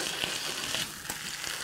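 Burgers sizzle and fry in a skillet, a steady close hiss of fat with a few soft pops and utensil taps, no one speaking.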